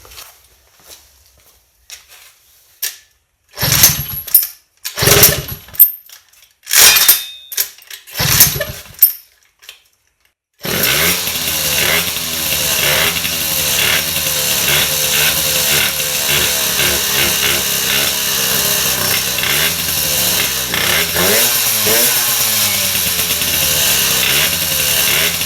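An MBK 51 moped's two-stroke engine is blipped in short bursts with quiet gaps between them, then holds a loud, continuous high rev toward 12,000 rpm, a buzzing drone that wavers slightly.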